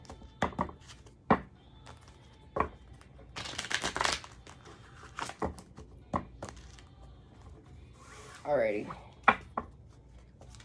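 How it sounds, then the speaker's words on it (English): A tarot card deck shuffled by hand at close range, with several crisp riffles and taps spread over the stretch, plus a brief spoken word and some handling noise. "this is the last deck I'm shuffling with here"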